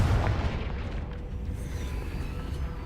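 A Confringo blasting spell goes off in the Hogwarts Legacy video game, a deep booming burst at the start that fades into a low rumbling tail, with no talking.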